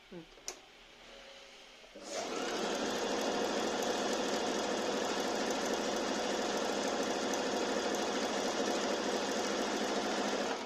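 A Singer Talent sewing machine runs a special decorative stitch, starting after a quiet moment with a click and then humming steadily and loudly at an even pace to the end.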